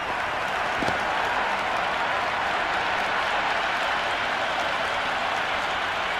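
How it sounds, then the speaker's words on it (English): A cricket crowd breaks into sustained applause after a cover drive, a dense, steady wash of clapping from a large stadium audience that holds at an even level throughout. "The crowd are loving every minute of this match."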